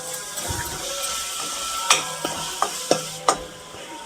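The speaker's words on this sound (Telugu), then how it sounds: "ఇప్పుడు ఉడికించి పెట్టుకున్న గోకరకాయ ఇందులో వేసి కలుపుకుందాం." Boiled gokarakaya is stirred into curry in a pan, with a soft sizzle underneath and a handful of sharp spoon clinks and scrapes against the pan in quick succession near the end.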